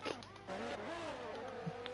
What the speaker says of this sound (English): train of cars here